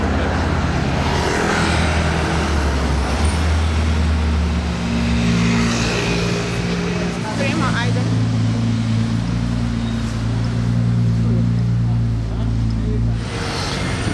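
A Porsche GT3 RS passes on a Monaco street, its engine note rising and falling with revs over the hum of other traffic, loud and close, with a second surge of engine noise later.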